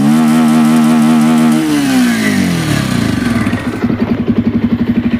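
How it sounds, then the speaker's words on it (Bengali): A motorcycle engine runs close and loud with a steady drone. The pitch slides down and settles into a rapid, pulsing idle chug, with no talking. "এদিকে আমার বাইকটা স্টার্ট দিয়ে লাগছে"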